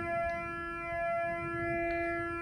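A faint, steady pulse width modulation tone from a Morningstar SunGuard SG4 solar charge controller, buzzy and phasing, hums continuously, its level gently swelling and fading.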